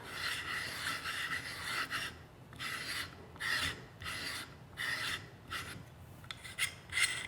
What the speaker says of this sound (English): Now we thread on our buttstock.